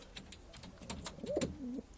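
A pigeon, a prized Rzeszów-district racing bird, gives a soft rolling coo near the mic, rising and falling over about half a second, amid faint rustling and small knocks.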